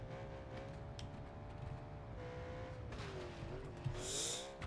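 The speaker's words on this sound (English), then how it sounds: "Full throttle." A car engine held at full throttle in BeamNG.Drive, a sustained droning roar with rising and falling pitch, close and steady, with a brief squeal near the end.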